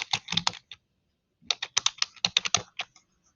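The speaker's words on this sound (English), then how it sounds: "So I'm going to go ahead and type in firefighters." Close-up typing on a computer keyboard: a short burst of rapid keystrokes, a pause of about a second, then a longer run of crisp, evenly spaced clicks.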